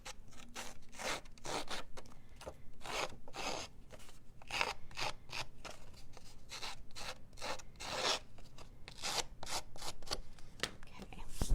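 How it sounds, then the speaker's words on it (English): Quiet, rapid scraping strokes of scissors dragged repeatedly along the edges of cardstock to roughen them, with soft murmured speech in the background. "I'm taking my scissors and just running them along the edges of the cardstock"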